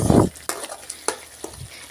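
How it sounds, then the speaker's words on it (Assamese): Kashmiri red chilli powder and coriander powder are stirred in hot oil in a pan for arhar dal, giving a brief burst of sizzle followed by several sharp, separate scraping strokes. "আৰু খুব ভালদৰে লৰাই থাকিব।"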